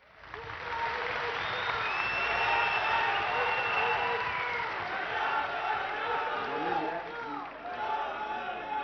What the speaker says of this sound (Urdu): ان کے لیے بھرپور تالیاں۔